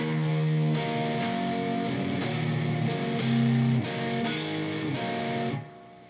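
Electric guitar plays a blues shuffle pattern at slow tempo, with distinct picked attacks and hammered notes, close and alone, ending on open strings strummed upward that ring out and fade.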